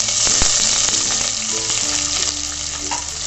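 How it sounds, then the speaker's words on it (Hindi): Chopped onions fry in hot oil in a kadhai, giving a steady, close, crackling sizzle with faint stirring and no voices. "बाकी बचे प्याज को हम हमारे गर्म हो चुके ऑयल में ऐड कर लेंगे।"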